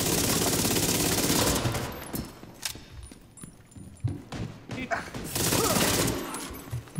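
Rapid SMG fire in The Division 2 during a close-range firefight at the Space Administration HQ, loud dense bursts at the start and end with quieter clatter and a few isolated shots between.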